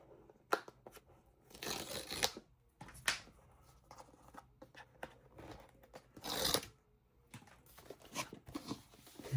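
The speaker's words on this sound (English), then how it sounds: "Peel this off." Plastic wrap being peeled off a yellow iPad 11 box, several close, irregular crinkling and tearing bursts separated by quiet pauses, with no voices.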